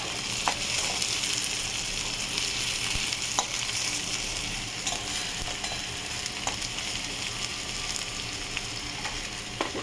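Steady sizzling of onions frying in a pan for a prawn curry, a continuous crackling hiss with occasional pops, close and fairly loud throughout, no talking.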